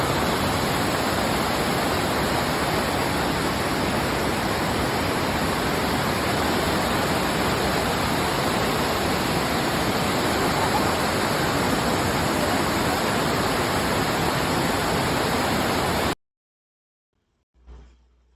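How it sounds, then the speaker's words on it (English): Anna Ruby Falls roars as a steady, loud broadband rush of falling water filling most of the recording, then cutting off abruptly near the end, leaving near silence with a faint thump. "That is one big waterfall."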